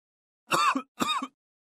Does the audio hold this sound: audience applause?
no